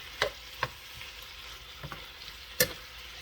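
Pork with black pepper and onions stir-frying in a pan on a gas stove: a soft, steady sizzle broken by a few sharp spatula clinks and scrapes spaced irregularly, close by.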